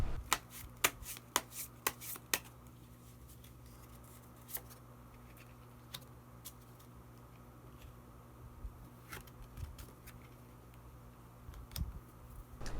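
Tarot cards being shuffled and drawn, with a quick run of crisp riffling clicks at the start, then quieter scattered taps and card slides near the microphone.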